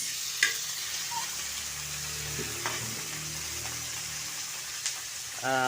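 Garlic, onion and tomato fry in a hot pan as miso sinigang with milkfish is cooked, giving a steady crackling sizzle with occasional clinks and stirring knocks.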